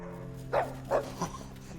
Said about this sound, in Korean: 그런 핀치를 기다리는 또 다른 가족 강아지 구디어.